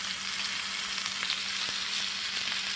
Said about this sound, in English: So you want to put enough butter on there just where it's going to be searing